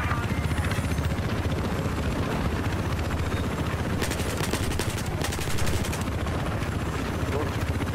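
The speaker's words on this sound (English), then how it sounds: "We're getting shot from behind" Battlefield 4 multiplayer match with a dense, continuous wash of gunfire and engine drone, bursts of rapid shots rising over it midway, with voices talking underneath.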